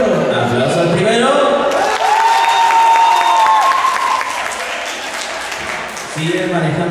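An audience at a yo-yo competition claps and cheers in a sustained burst, with voices and a tonal whistle-like call rising over the clapping before it thins out.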